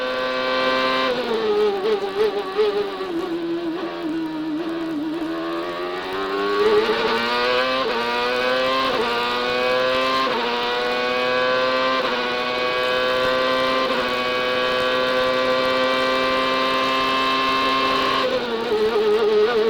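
A 2002 CART Champ Car engine on a pole-winning qualifying lap at Mid-Ohio, heard on board as a loud, continuous high-pitched scream that dips under braking and climbs again through repeated upshifts, with no voices.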